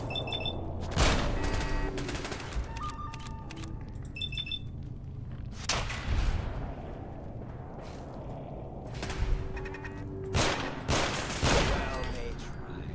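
Gunfire against laser turrets in the Sim Settlements video game, repeated loud shots and impacts in irregular bursts, mixed with electronic alarm-like beeps and tones, with someone talking in between.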